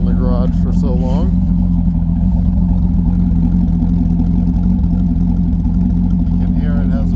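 Deep, steady idle of a 2006 Corvette C6 widebody sitting in a garage, a smooth low rumble running continuously and close up while someone talks over it.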